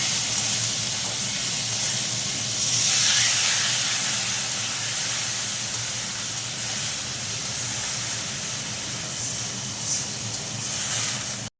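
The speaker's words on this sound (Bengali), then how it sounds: "দিলাম আদা বাটা, একটু লঙ্কা বাটা, এবার আমি জল ঢেলে দেবো।" Water poured into a hot pan of frying ginger paste and chilli paste, giving a loud, steady steaming hiss that stays close and constant throughout without fading.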